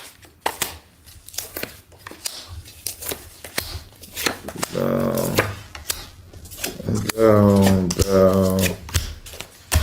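Tarot cards are shuffled and drawn in a series of crisp, rapid riffles and slaps, close and fairly loud, with a voice speaking briefly between the shuffles.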